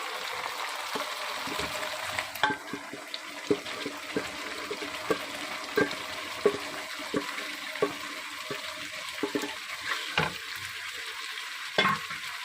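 Meat and softened tomatoes being stir-fried together in oil in a pan for a bhindi gosht curry, with a steady sizzle broken by frequent spoon scrapes and stirring clatters, close and alone without talk.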